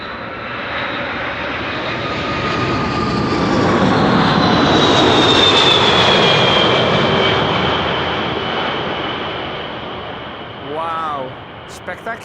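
Airliner passing close by at Amsterdam Schiphol Airport, a loud swelling engine roar that builds, peaks with a high whine and slowly fades, with a brief voice near the end.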